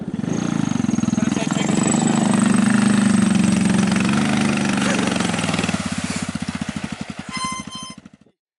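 An adventure motorcycle rides through a giant, deep mud puddle on a rough road, its engine droning loudly and steadily before easing to a faster, ragged chugging as it pulls away, with voices heard faintly alongside.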